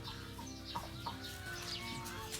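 Chickens cluck and chatter on a poultry farm, with Mongolian black and American red breeds kept there, making a busy overlapping mix of short calls and squawks from several birds at moderate distance, faint overall.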